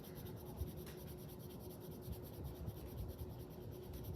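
Marker strokes rubbing on paper, layering orange ink while coloring a fish drawing; steady, close scratchy scribbling throughout with no talk.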